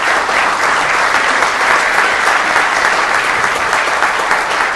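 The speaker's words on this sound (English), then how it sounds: "So let's give a round of applause to Corporal Lizardi for his work." Council meeting audience applauding a police corporal, loud, steady and dense clapping from a full room throughout, with no break.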